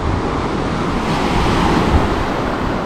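Sea waves roll and break on Akçakese beach at Şile on the Black Sea coast, a continuous loud surging wash mixed with wind buffeting the microphone.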